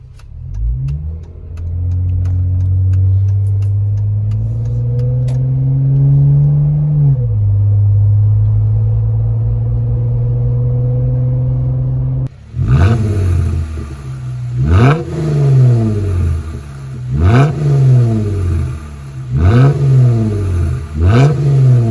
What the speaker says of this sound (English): once you get on it and you really hit that accelerator, you get a nice throaty wah